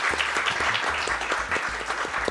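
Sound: audience applause at a speedrun event

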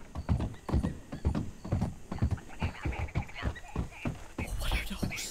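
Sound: horses whinnying and hooves in Red Dead Redemption 2 video game

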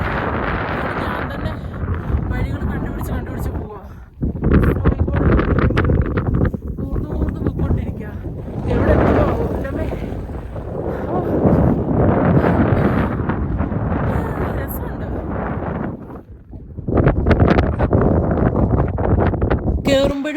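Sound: strong snowy wind on a mountain descent

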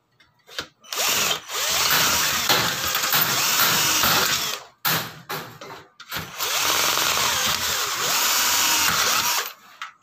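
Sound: power drill with 1/8 bit drilling SF screen door crossbar

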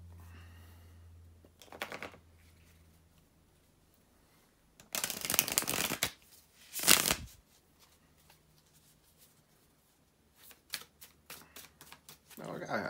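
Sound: shuffling tarot cards

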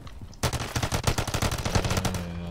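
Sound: BP50 gun firing in the video game MW3 Zombies

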